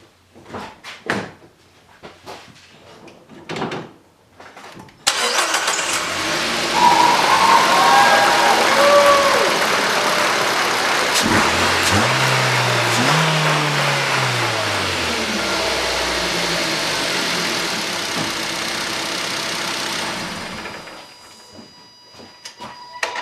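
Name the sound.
Nissan Qashqai J10 engine starting and idling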